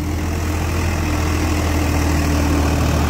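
A Swaraj 742 XT tractor runs with an 8-foot rotavator in a field, its engine a loud, steady, close low-pitched drone throughout.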